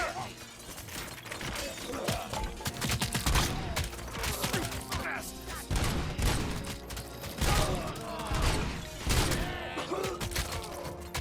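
Dense, continuous gunfire in the shooter game Robocop Rogue City, rapid crackling bursts and impacts layered over low rumble, with shouted voices mixed in.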